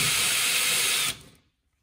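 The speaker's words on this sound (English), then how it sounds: "So what I'm gonna do is drill a hole in the wall." A power drill bores a hole into a wall where an outlet cover will sit, during installation of a cabinet for a dishwasher: a loud, continuous whirring hiss that suddenly stops and fades into silence.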